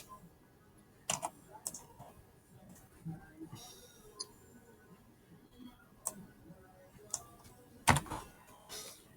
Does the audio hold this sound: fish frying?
no